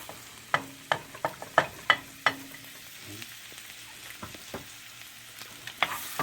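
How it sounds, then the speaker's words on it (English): Garlic sizzles and crackles in melted butter in a pan, with a steady frying hiss broken by repeated sharp pops and clinks of stirring at close range, and no talking. "we're going to add the garlic first once the butter melts"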